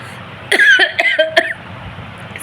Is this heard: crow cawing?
no